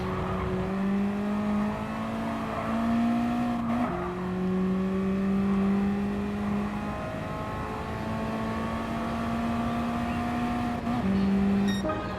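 Race car engines in the Gran Turismo video game hold a steady, loud drone that rises in pitch and drops sharply at two gear shifts, with no talking over it.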